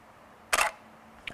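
A single sharp mechanical shutter click from a camera, close and crisp against a quiet room, followed by a fainter brief click moments later.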